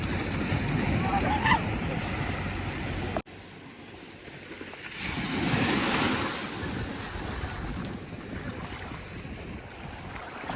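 Ocean waves at Chavakkad Beach in Kerala roll and wash in a steady broad roar, close and loud, with wind buffeting the microphone and a surge swelling midway.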